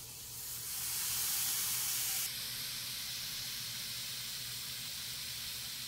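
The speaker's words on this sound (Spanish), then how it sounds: "Aquí está el molcajete bien caliente y le agregamos nuestra salsa." Salsa poured into a very hot stone molcajete bursts into a loud steamy hiss that swells for about two seconds, then settles into a softer, steady sizzle.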